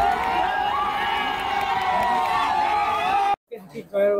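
Supporters in Dhubri celebrate the announced panchayat election results with a loud, dense crowd roar of cheering and shouting that cuts off abruptly near the end, followed by a few brief voices.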